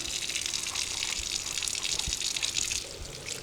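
Tap water gushes steadily as a juice press tray is rinsed under a faucet, with a continuous close splash and light knocks of the tray against the sink.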